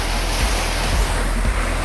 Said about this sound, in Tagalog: Grabe na kusog hangin